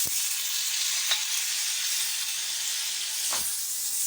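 Tomatoes dropped onto fried onions in a hot pan give a constant bright hiss of sizzling, close and even, with a couple of brief knocks and no voices.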